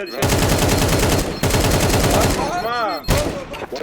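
Rapid bursts of AK-47 automatic gunfire in Counter-Strike 2 rattle loudly in long strings, broken by brief pauses and a warbling electronic tone.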